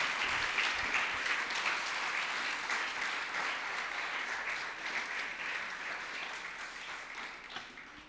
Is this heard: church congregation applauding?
yes